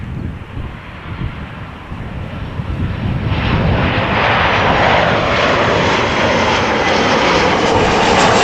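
A 22-year-old KLM Boeing 737 arriving at Amsterdam Schiphol, a broad jet engine roar building steadily and staying loud and close, mixed with wind buffeting on the microphone.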